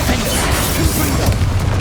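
Confringo blasting curses exploding in Hogwarts Legacy, heard as a dense run of booming bursts and crashes over continuous loud game effects and music through the whole stretch.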